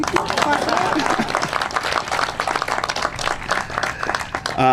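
An audience at an affordable housing groundbreaking ceremony breaks into dense, steady applause that carries on for several seconds, with voices mixed in underneath.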